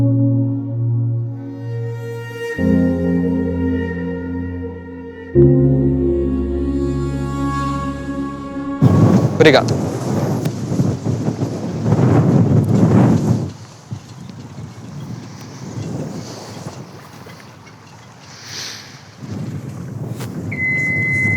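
A sailboat's engine is started partway through and then runs steadily, its broad rumbling noise replacing the calmer tonal sounds heard before it, with wind and water noise around it.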